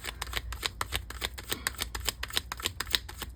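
Tarot cards shuffled by hand in a quick run of crisp, riffling flutters, close and steady, with no talking.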